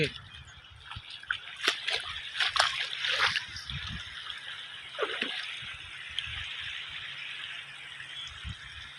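Floodwater from heavy rains flows across waterlogged crop fields with a steady rushing and splashing wash, and someone talks over it throughout.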